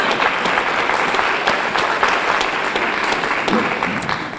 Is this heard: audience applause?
yes